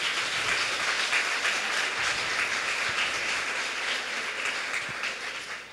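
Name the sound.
congregation applauding in church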